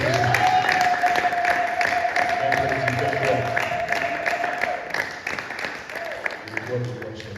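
A church congregation at a Sunday service applauds, a dense wash of clapping mixed with crowd voices and a sustained sung or called tone, the applause thinning toward the end.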